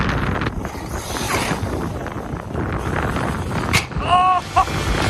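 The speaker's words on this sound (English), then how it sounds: "Man, this wind is awful." Strong outdoor wind buffets the microphone in a steady low roar, with a brief whine from a small RC car near the end.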